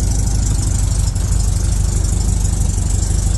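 A Megasquirt 3-tuned car engine idles just after a cold start, running warm-up and after-start fuel enrichment. It gives a steady, close, loud idle with an even low-pitched pulsing.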